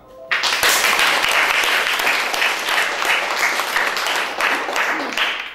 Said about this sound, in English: I'd like you please to join me in a warm applause to Cristina Pellini and Silvia Bocca.